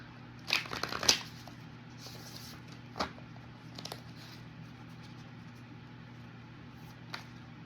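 A deck of slippery playing cards is handled and shuffled, giving a few soft riffling bursts near the start and scattered light taps afterward, quiet against a steady low hum.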